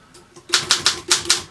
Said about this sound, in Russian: При ударе на любую символьную клавишу отпечатывается соответствующий символ в нижнем регистре